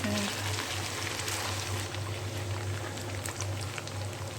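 Ginger garlic paste frying in a home kitchen pan for achari chana, a steady close bubbling sizzle that holds throughout without a break.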